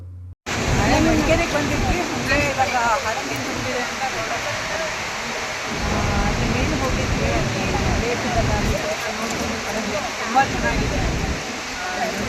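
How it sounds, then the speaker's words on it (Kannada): Heavy water gushes through the open crest gates of Harangi Reservoir, a loud, steady roar of rushing flow that fills the whole stretch without a break. "ಕ್ರಸ್ಟ್ ಗೇಟ್ಗಳ ಮೂಲಕ ಭಾರೀ ಪ್ರಮಾಣದ ನೀರು ಧುಮ್ಮಿಕ್ಕುವ ದೃಶ್ಯವನ್ನು ಸ್ಥಳೀಯರು ಹಾಗೂ ಪ್ರವಾಸಿಗರು ಕಣ್ತುಂಬಿಕೊಂಡರು"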